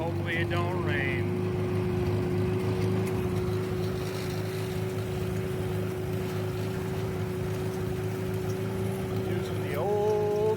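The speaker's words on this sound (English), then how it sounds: "back on the tractor again" An old tractor engine drones steadily while raking hay in a field, a loud, constant near hum with a low rumble, running unbroken throughout, with brief faint chirps near the start and end.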